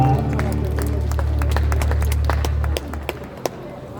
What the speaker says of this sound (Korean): 우리 청강님께 다시 한번 뜨거운 박수 부탁드리겠습니다